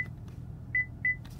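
A Cadillac memory seat button gives short, clear electronic beeps, two quick tones close together after a faint first one, over a low cabin hum.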